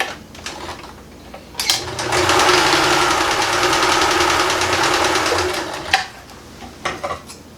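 A sewing machine runs a satin stitch across the end of a denim strap cut from recycled jeans, a loud rapid mechanical chatter lasting about four seconds, with a few clicks and handling knocks before and after.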